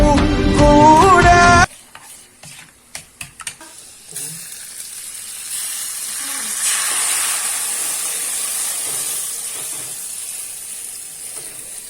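Kothipal, sweetened milk brought to a boil, is stirred in a pot, giving a steady close hiss and bubbling with a few scraping stirs, after a brief burst of music at the start.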